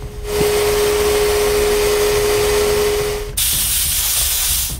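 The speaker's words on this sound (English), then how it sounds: "I sand the interior of the box with a 120 grit sandpaper." Interior of a wooden tack box sanded with 120 grit sandpaper, a loud, close, continuous abrasive hiss that breaks off and shifts to a brighter hiss near the end.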